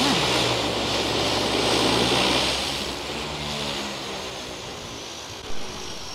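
A Harbour Air de Havilland floatplane, built in Canada in 1956, drones steadily with a loud, close piston-propeller engine roar at Vancouver Harbour, and the rumble eases slightly partway through.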